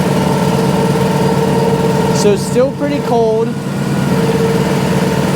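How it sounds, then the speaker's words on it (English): A tractor engine idles in extreme cold with a steady low drone throughout while someone speaks briefly over it. "You'll also hear how much it slows down the engine."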